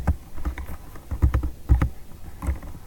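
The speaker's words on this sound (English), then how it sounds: "and you type" Steady typing on a computer keyboard while a note is entered, a close run of soft key taps in uneven bursts with short pauses, no voices.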